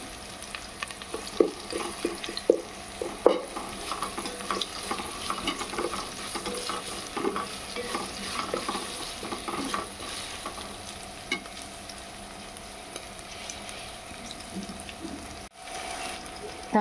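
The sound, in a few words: ginger garlic paste frying and being stirred in a pan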